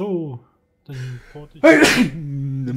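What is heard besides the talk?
sneeze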